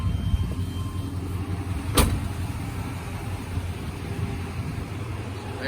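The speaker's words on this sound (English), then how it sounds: "so I can hear the motor" A 1995 Chevy K1500 Silverado with a 355 TBI V8 idles steadily, a continuous low rumble heard close by, with one brief sharp click near the middle and no talking.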